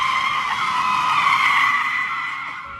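An 828-horsepower car drifting, its tires giving a loud sustained squeal with a steady tonal screech that fades slightly at the end, heard alone.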